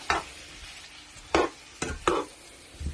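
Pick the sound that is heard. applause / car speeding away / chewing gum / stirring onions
stirring onions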